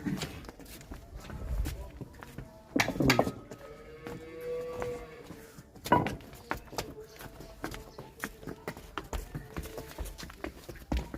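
A milking cow at a cattle sale lets out low moos amid background voices of people talking, with shuffling hooves and footsteps around it.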